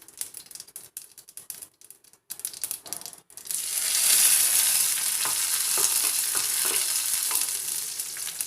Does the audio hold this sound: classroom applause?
no